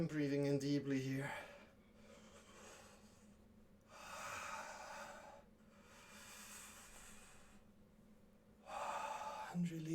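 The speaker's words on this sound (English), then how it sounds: "And breathing in deeply here." Slow, deep breaths drawn in during a yoga session, three soft airy inhalations spaced a couple of seconds apart, close and quiet, with a brief voice at the start and end.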